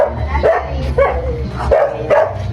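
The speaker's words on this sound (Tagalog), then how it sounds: "Ayan, may aso." A dog barks several times in quick succession, close and loud, with a steady low hum in the background.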